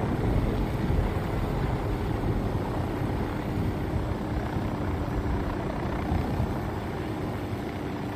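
Helicopter in the video game Ghost Recon Wildlands, a steady loud rotor and engine drone that fills the whole stretch with constant wind-like rumble and no talking.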